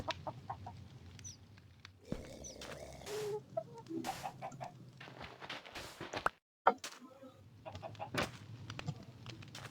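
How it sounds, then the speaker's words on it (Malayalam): Chickens cluck in a survival video game, with short, irregular clucks over quiet ambient noise, broken by a brief gap of silence midway. "ഒരു കോഴി"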